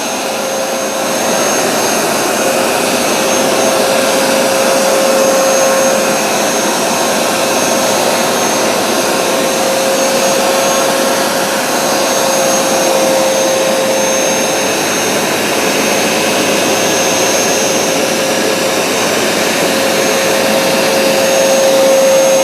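Bissell CrossWave and Hoover SmartWash carpet cleaners running while cleaning grape juice from carpet, a loud, steady motor whine with a constant suction roar throughout, close by and with no talk.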